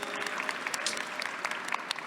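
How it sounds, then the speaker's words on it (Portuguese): Audience at a book fair panel applauds a speaker being introduced, a dense, continuous burst of many hands clapping throughout. "Uma salva de palmas para Renan."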